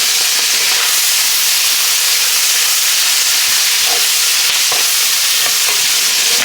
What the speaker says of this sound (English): We're going to put some onions in the pan.